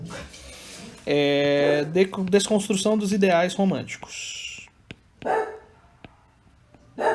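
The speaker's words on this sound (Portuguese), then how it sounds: "Meu cachorro tá latindo aqui" A pet dog barks indoors in the background, giving several short barks and yips around and after a person speaking in Portuguese.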